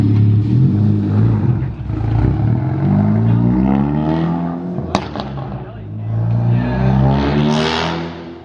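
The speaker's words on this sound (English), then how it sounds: "Cracking popple for days." A Ford Focus ST engine revs hard and loud nearby, with a sharp pop from the exhaust midway and rumbling crackle as it settles.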